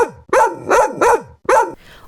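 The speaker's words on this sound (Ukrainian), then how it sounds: "Ось так кажуть собаки." A dog barks four times in a steady rhythm, close and loud, each bark sharp with a falling tail, followed by a fainter trailing yelp; no talking.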